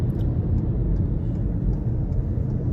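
A car engine accelerating hard with the pedal floored on a motorway slip road, giving a steady, loud, low rumble of engine and road noise from inside the cabin, with no talk.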